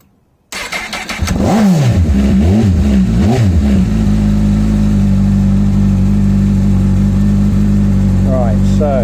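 A Honda CBF1000 motorcycle engine with a newly fitted stator cranks and catches, then gives a few loud rising-and-falling revs before settling into a steady idle close by.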